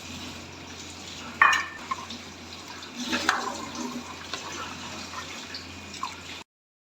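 Water bubbles and churns steadily in a pot with a soft hiss, broken by a couple of faint clinks.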